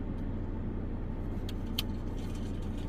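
A car idles and rolls slowly around a small campground loop, a low steady engine rumble close by with a couple of faint rattles and no talk.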